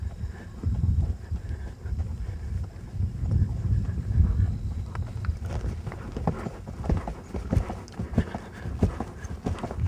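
A horse's hooves beat out a rhythm as it strikes off into canter from a transition under saddle, with steady thudding footfalls, some wind noise, and no talk.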